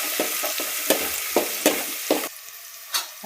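Ginger and chili paste sizzling in hot oil with mustard seeds, cumin and asafoetida while a spoon stirs it, a steady close frying hiss broken by about seven sharp scraping strokes.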